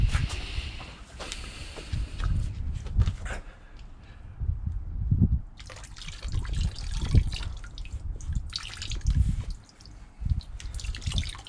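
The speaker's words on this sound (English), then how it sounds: "I'm going to try and pour it into here." White spirit pours and glugs unevenly into an Alfa Romeo 159 1.9 JTDM intercooler nearby, the flow stopping and starting with dribbles and brief pauses.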